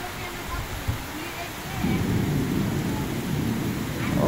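Steady rain falls in Bangladesh, a dense continuous hiss that swells heavier partway through, with a low rumble of thunder underneath and a faint voice briefly audible.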